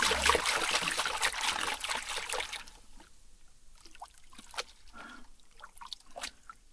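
Muddy gravel and water slosh and trickle as a gold pan is shaken, loud and busy at first, then easing into quieter drips and splashes.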